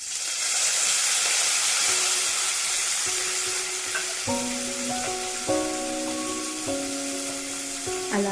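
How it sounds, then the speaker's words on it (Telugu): Half a cup of washed mint leaves fries in a pan for khuska rice, with a continuous hissing sizzle. Steady tonal sounds join in partway through. "నీట్గా వాష్ చేసి పెట్టుకున్న 1/2 కప్పు పుదీనాను వేసుకుంటున్నాను."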